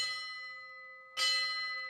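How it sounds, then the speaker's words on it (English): Bells ring with a steady sustained tone at a firefighter's funeral, then a second louder strike rings out clearly over the fading hum. "Ringing of the bells,"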